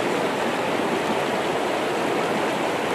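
River water flowing steadily in a forest setting, a continuous loud broadband rush like a stream or small rapids, with no pauses and no voices.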